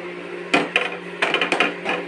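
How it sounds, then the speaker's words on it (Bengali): A lid is set on a metal pot of potato curry with peas after the gas stove is turned off, giving several close, sharp metallic clinks and clatters over a faint kitchen hum. "গ্যাস অফ করে দিই, ব্যাস ঢাকা দিয়ে দেবো।"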